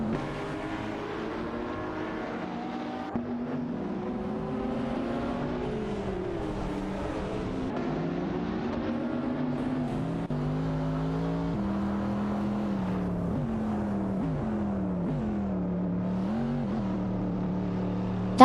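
In an AI racing game, race car engines whine continuously, with pitches that rise and fall as the cars shift and accelerate. Several overlapping tones form a steady, moderately loud drone throughout.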